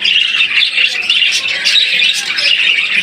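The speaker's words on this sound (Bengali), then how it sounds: "একজোড়া অ্যাডাল বাজিকের পাখি" A pair of adult rainbow-mutation budgerigars, kept for sale with eggs, squawk and chirp continuously at close range, a dense busy chatter with no talking.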